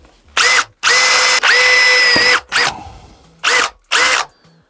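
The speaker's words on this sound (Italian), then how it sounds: "Uso un classico trapano a batteria" Loud, close bursts of a cordless drill boring a hole while mounting an irrigation bracket, several whining runs of varying length with pitch shifts, separated by short silences.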